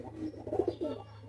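Kaldom pigeons, Oman Teddy breed, a young male and female pair, give soft repeated coos, a few low throaty calls close by over a steady low hum, with no talk.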